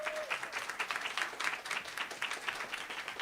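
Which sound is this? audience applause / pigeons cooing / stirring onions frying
audience applause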